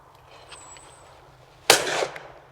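A single loud Beretta shotgun shot at an outdoor shotgun shooting event, a sharp blast at about 1.7 s followed by a brief ringing tail over quiet background.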